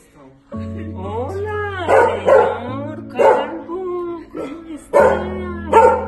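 A mixed-breed dog gives several sharp barks and yips in short bursts, set over a steady background tone that sounds like music.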